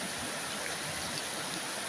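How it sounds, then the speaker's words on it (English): A flooded brook rushes steadily through a field beside an ancient hollow alder tree, a continuous broad roar of water with no other sounds. "So here we have the flooded brook yet again"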